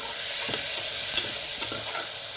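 Green chillies and curry leaves frying in oil in a pan for a bottle gourd fry, a loud continuous sizzle with occasional stirring scrapes and no voices.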